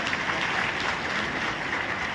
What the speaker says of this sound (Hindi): माननीय मुख्यमंत्री जी डॉक्टर मोहन यादव जी का एक बार जोरदार ताली से